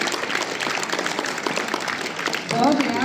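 Students in an audience at a school sports meet clapping together, a dense, moderately loud applause with a voice speaking over it near the end.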